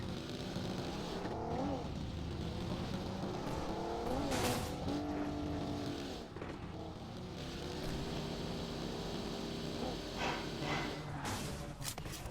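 Car engine driving in the mobile battle royale game BGMI, a steady revving drone with shifting pitch and occasional bursts of louder noise, continuous throughout.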